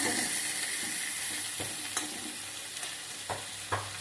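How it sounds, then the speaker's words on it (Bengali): Food stirred and fried in a pan before rice is added, a quiet, steady sizzle punctuated by a few sharp spatula taps and scrapes against the metal. "নাড়াচাড়া করছি, একটু ভাজা ভাজা হয়ে গেলে চালগুলো দিয়ে দেবো।"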